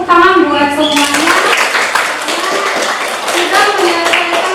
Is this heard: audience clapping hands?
yes